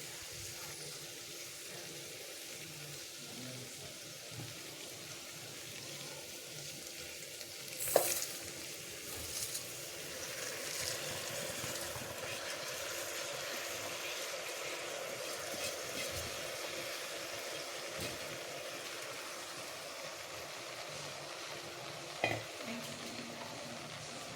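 Rice stirred into a pan of sizzling spiced mint rice, a soft steady frying hiss with scraping stirs and a couple of sharper spoon clinks, quiet and close.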